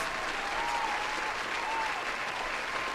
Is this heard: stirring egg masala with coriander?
no